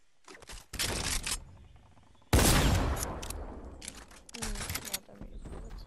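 A tactical shotgun firing in the Fortnite game: several sharp, loud blasts come in quick bursts, with the biggest crack near the middle ringing out. A voice talks briefly around the shots.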